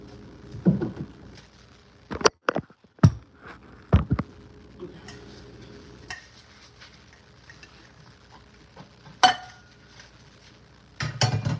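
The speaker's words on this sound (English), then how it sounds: "So, let's wash dishes." Dishes, pots and cutlery being washed by hand: scattered clinks and clatters of metal and crockery come in short bursts with quiet gaps between them, fairly close, with a soft background hum.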